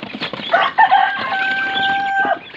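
Backyard chickens and small chicks call out in a steady run of clucks and high, drawn-out peeping cries, close and fairly loud for a couple of seconds, with no talking.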